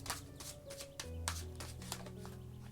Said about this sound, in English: Two more shuffles, they say.